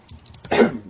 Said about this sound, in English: Sorry, had to cough there.